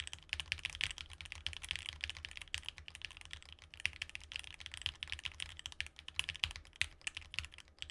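Steady, rapid keystrokes on a Bear65 mechanical keyboard ring out as continuous random typing, a dense rhythm of close, crisp clacks that runs alone for the whole stretch with no voices.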